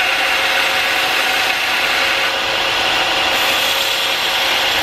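Small titanium bracket being shaped for a Civic EK hatch, with a loud, continuous abrasive power-tool grind or sanding hiss that holds steady for about five seconds with no talking.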